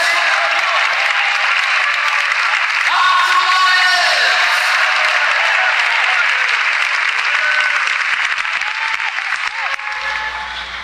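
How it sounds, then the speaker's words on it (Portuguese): A church congregation breaks into sustained applause with scattered whoops and shouts rising through the middle, the clapping loud and even before tapering slightly toward the end. "E as palmas com glória a Deus"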